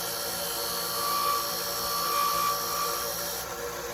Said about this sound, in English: just hitting this with the sander